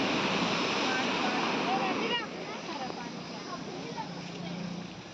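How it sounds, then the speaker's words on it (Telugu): A small waterfall of dirty water at a Hyderabad zoo park rushes steadily nearby, a continuous roar that softens slightly midway, with a voice faintly present. "ఇంత మురికి జలపాతం."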